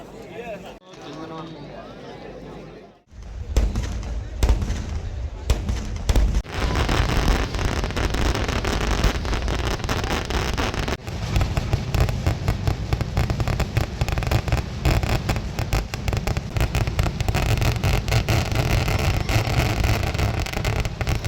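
Dawn fireworks display at the Nenmara Vela temple festival in Kerala, starting quietly and then erupting into a loud, sustained barrage of dense, continuous explosions that rumble on for nearly twenty seconds, with voices faintly present.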